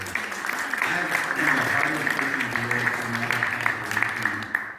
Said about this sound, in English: Round of applause for these folks right here.